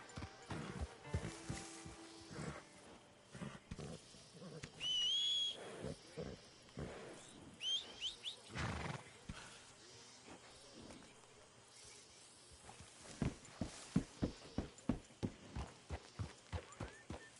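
Steady clip-clop of horse hooves in a PS4 video game throughout, with occasional snorts and whinnies, distant voices and outdoor ambience behind.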